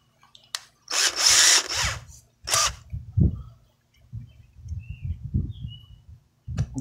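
A power drill bores into a piece of wood while a homemade TV antenna is built, giving a loud high whine for about two seconds with short bursts after it and low handling noise between them.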